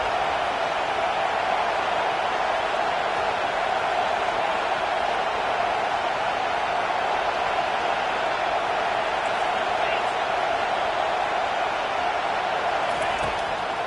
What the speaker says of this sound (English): And here comes the noise. This crowd is trying to inspire this defense to make a big red zone stop.